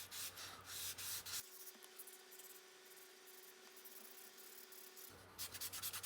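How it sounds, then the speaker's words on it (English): A model stagecoach wheel is sanded by hand with 600-grit foam-backed sandpaper in steady, soft rubbing strokes, close and quiet, with a pause and a faint hum midway before the strokes resume. "foam back paper, you could actually hear or feel and hear the tone of the sanding change as you came around the model"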